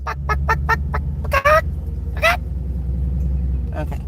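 Free-roaming chickens near a fence cluck in short, scattered bursts over a steady low engine rumble, with people talking close by.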